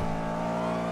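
Car engine in the GTA V NoPixel roleplay game, a black car pulling away, steady revving with strong harmonic tones, close and loud throughout a short burst with no talk.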